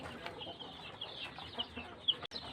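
Two-week-old joper chickens, sick with a cold, peep faintly in a steady scatter of soft high chirps with no voices over them.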